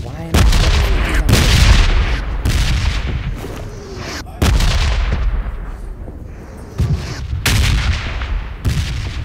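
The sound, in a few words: artillery and gunfire in a war video game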